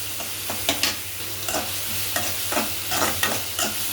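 Curry leaves fry in hot oil for a spicy Kerala chicken gravy, giving a steady broadband sizzle. A spoon stirs and scrapes the pan in repeated strokes, loud and close, with no talking.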